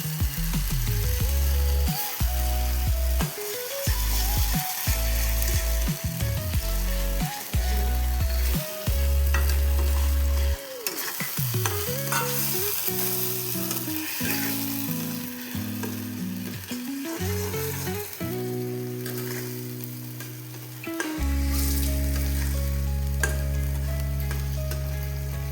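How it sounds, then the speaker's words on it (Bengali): Cumin powder and salt fry in a pan, a loud continuous sizzle broken by repeated scraping strokes of a spoon stirring the mixture close to the mic. "এখন এটা অল্প ভাজা হয়ে গেছে"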